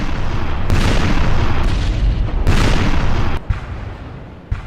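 Loud, continuous naval cannon fire from a sea battle in Napoleon Total War, heavy booming broadsides rolling into one another with sharp bursts, easing off toward the end.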